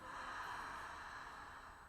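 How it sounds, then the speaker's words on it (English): A single deep ujjayi inhale during a yoga flow class, a faint, steady throaty hiss of breath lasting nearly two seconds, heard alone and close. "Ujjayi breath."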